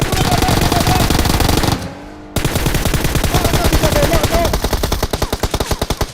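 Rapid automatic gunfire from the mobile battle-royale game PUBG Mobile, loud sustained bursts with a brief gap midway, then resuming as fast rhythmic shots that grow more spaced toward the end.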